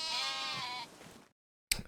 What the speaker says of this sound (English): We do have 2 adult goats to sell.